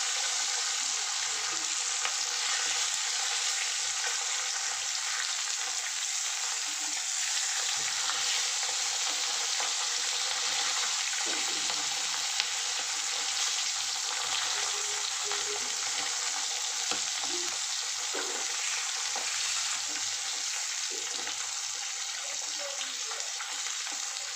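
Parshe fish frying in hot oil, a steady close sizzle with crackling spatters throughout, no voices.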